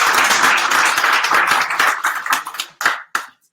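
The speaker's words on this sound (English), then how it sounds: "Please, one round of applause for our host." Applause from a small PHP meetup audience greeting the host, dense clapping for about two seconds, then thinning out into a few scattered final claps.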